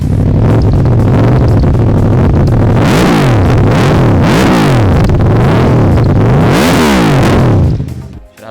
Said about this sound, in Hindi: मैं चाहूँगा कि आप खुद एक्सीलेटर दें और इसका एक सेल्फ दें और एक्सीलेटर देकर चेक करें